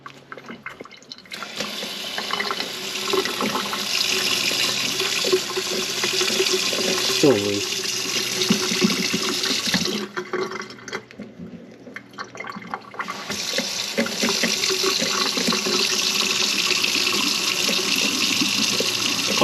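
Water runs and drips from a Moen faucet after a cartridge change, a steady close hiss of flow that cuts out briefly and then resumes, with occasional voices over it.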